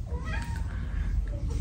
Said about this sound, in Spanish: este es el gatito